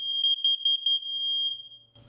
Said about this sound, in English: You can hear them going off throughout the house.